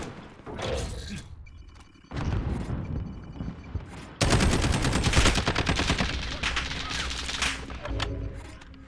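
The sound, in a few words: gunfire from the speaker shooting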